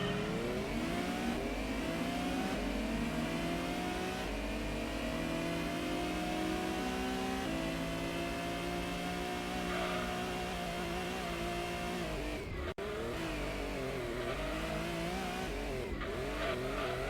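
Hard-tuned race cars in Gran Turismo 1 roar continuously in a GT Cup race, engines rising and shifting pitch through gear changes, with brief tire squeal, loud and steady throughout.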